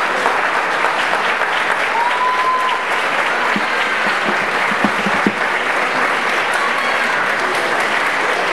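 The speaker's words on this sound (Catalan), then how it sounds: "Raquel de Simón Cruzà, un fort aplaudiment." Audience at a secondary-school graduation ceremony in Gandia applauding an award, a steady, even roar of many hands clapping that holds unbroken for several seconds.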